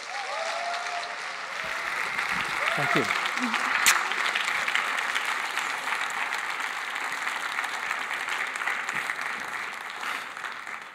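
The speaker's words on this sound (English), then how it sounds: "let's give him a big round of applause" Warm, sustained audience applause greets a guest speaker at a public talk on sustainable mobility in Tucson, Arizona, a thick wash of clapping that swells and holds while someone briefly speaks over it.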